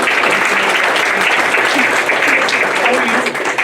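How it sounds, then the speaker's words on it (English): Dense, loud applause from an audience at an awards event, a continuous wash of clapping held steady across the whole moment and easing slightly at the end. "Let's give them a round of applause for the wonderful donuts."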